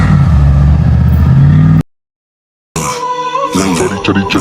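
A loud LS V8 engine swapped into an old-body-style pickup roars and revs with a rough, throaty growl, cuts to sudden silence, then returns with clattering, revving bursts.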